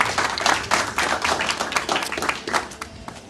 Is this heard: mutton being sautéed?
no